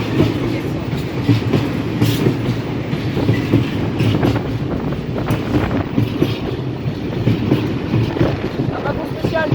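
A freight train with tarpaulin-covered special wagons rolls steadily past close by, a continuous loud rumble with rhythmic clatter of wheels over rail joints, and a voice comments over it.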